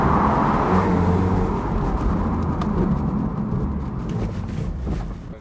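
A Porsche 911 Carrera S 997.2 convertible with sports exhaust tips gives a loud, steady engine and exhaust drone that holds throughout and eases slightly toward the end, with no talking.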